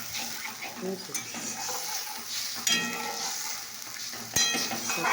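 Spice paste sautéing in a pan with a splash of water, a soft continuous sizzle under scraping stirring strokes, with a few sharp metallic clinks of a utensil against the pan, close but fairly quiet.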